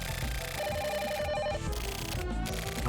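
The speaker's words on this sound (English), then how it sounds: "A phone is ringing!" A telephone rings in the video game The Silver Case, a loud repeating electronic ring with steady pulsing bursts over a busy game soundtrack, no voices.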